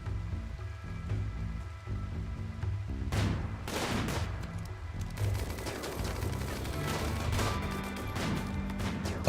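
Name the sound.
gunfire in the video game RimWorld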